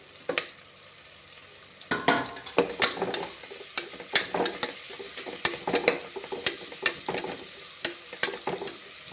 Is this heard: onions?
yes